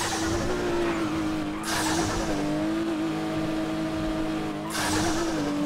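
A car engine in the video game GTA V drones steadily at high revs, loud and close, with two brief whooshing swells that could be tyres skidding, and no voices.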